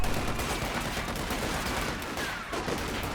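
Squads exchange fire in a strategy game battle, a dense, continuous crackle of rifle and machine-gun shots rattling together at a moderate distance with no talking.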